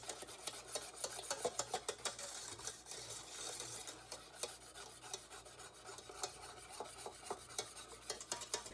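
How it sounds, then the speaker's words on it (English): A whisk scrapes and rasps steadily in a bowl as lemon juice is beaten into a sugar and egg mixture for lemon curd, giving a quiet, continuous rhythmic scratching with no talk. "we want to whisk the lemon juice into our sugar-egg mixture"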